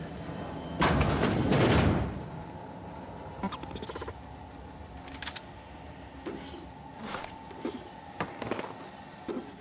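A sci-fi door in The Outer Worlds slides open at Devil's Peak Station with a loud whooshing rush near the start, followed by softer mechanical clicks and taps.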